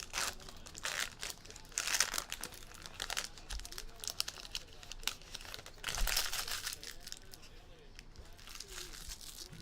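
Tight football trading card pack being cut open and unwrapped, with bursts of crinkling, crackling wrapper foil and tearing scattered through the clip, close up, with quiet talk in places.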